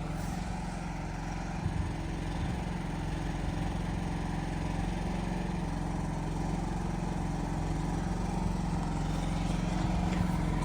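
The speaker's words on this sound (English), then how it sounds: "The engine in there warming up without the exhaust fan running should help heat it up a little bit" A steady, low generator engine drone idles continuously at an even level in a cold room with the exhaust fan off, with a faint mechanical hum and no voices.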